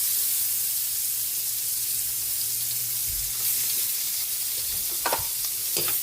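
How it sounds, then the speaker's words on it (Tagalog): Garlic sautés in butter with a constant close sizzle that hisses evenly throughout, joined near the end by a few brief scraping stirs. "Gigisa na tayo para sa ating chicken pickles. Lagyan natin ng butter. Ayun. Sabay na natin yung bawang."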